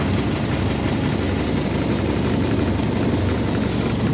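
A large engine idles just after starting, a loud, close, steady low rumble with constant vibration and no change in pace.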